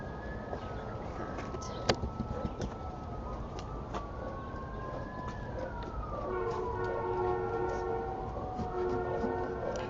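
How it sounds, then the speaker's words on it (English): Wailing emergency sirens from fire vehicles rise and fall continuously in the distance over steady outdoor background noise, with a sharp knock partway through and the siren tones layering more densely toward the end. "Those sirens aren't for us."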